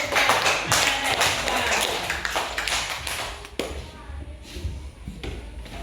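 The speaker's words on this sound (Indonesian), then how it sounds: "Ya, tepuk tangan dulu." Students in a classroom break into applause, a dense burst of clapping that thins out after a few seconds, with a voice speaking as it fades.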